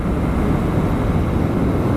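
Steady roar of wind buffeting and engine drone from a Vespa Primavera 150 scooter on the move, captured by an unshielded microphone tucked inside a riding helmet; loud, continuous and unbroken throughout, with no talking.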